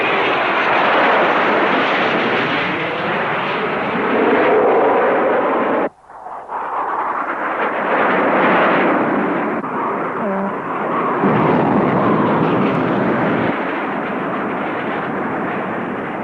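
A McDonnell Douglas F-4 Phantom jet flying and firing, heard as a loud continuous jet roar that cuts off sharply and then returns, with a short burst of rapid fire in the middle.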